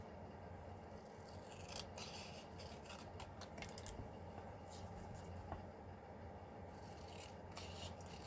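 Scissors cutting paper flamingo card pieces in half, faint rasping snips in irregular runs over a steady low background hum.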